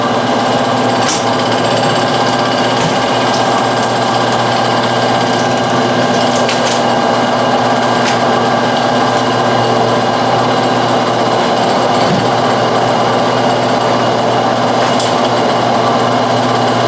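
A honey extracting machine strips wax cappings from frames with a loud, steady mechanical whir and buzz that runs unbroken and close throughout, with occasional sharp ticks over the drone.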